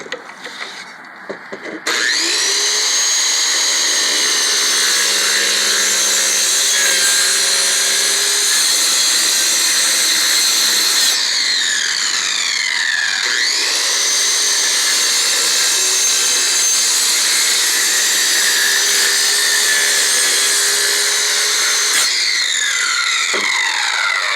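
A power saw whines continuously through wood, loud and close, its pitch dipping briefly as it bites in and then steadying again.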